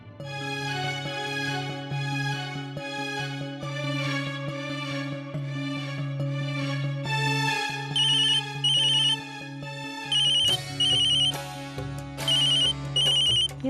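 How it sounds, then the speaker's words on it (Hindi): A telephone ringtone plays for several seconds as a loud, steady melodic tune, then shifts into repeated bright electronic ring bursts in an even on-off rhythm, with no talking over it. "गोल्डी, हिम्मत कैसे हुई मुझे फोन करने की?"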